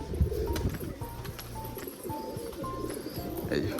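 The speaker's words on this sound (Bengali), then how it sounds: "এই নতুন পায়রা" A pigeon in a cage coos close by, repeated low throaty calls in a loose rhythm, with some faint chirps and background noise around them.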